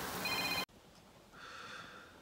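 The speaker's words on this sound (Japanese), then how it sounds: "すみません、ちょっと電話が来ました。" A telephone rings with an incoming call, a faint electronic ringtone tone sustained for under a second, then after a cut a softer ringing pattern returns over quiet room noise.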